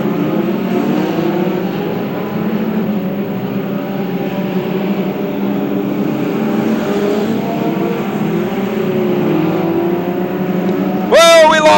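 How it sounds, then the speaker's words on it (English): Race cars at Macon Speedway roar steadily along the front stretch into the back straightaway, a loud, sustained engine drone with shifting pitch, and a sharp rising whine near the end. "cars going through the front stretch onto the back straightaway now"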